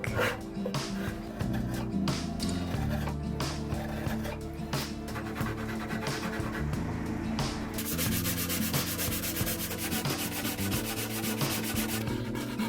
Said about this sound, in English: Shape the neck.